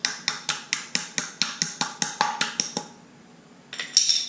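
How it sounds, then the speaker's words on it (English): A small hammer taps a hub ring onto the wheel hub of a 2017 Subaru WRX with aftermarket wheels, about a dozen quick, evenly spaced metallic knocks, close and crisp, then a short pause and a final few taps. "I just have a small hammer. Slowly just kind of tap around the sides here."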